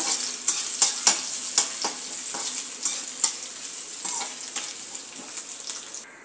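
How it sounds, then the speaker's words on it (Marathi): Skin-on crushed garlic fries in hot oil for Nashik-style chivda, a bright, close sizzle punctuated by a run of rhythmic spatula scrapes and taps against the pan. "आता हा आपण गोल्डन ब्राउन होईपर्यंत तळून घेऊया।"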